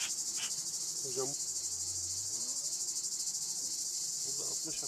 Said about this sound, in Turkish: burada 60-65 tane arı var hocam